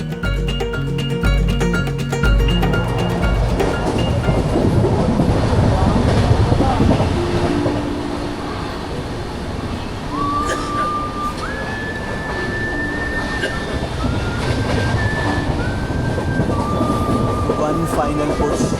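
Rumbling train noise with clattering wheels, later joined by high squealing tones, in a busy station atmosphere with faint background voices.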